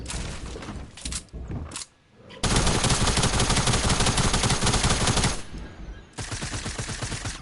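Video game gunfire rattles in dense automatic bursts, with short gaps between volleys and one long sustained stretch of rapid, loud shots close by.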